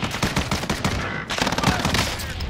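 Rapid gunfire from Call of Duty Modern Warfare Rebirth, a loud dense burst of repeated shots filling the short moment with a brief gap midway, close and punchy.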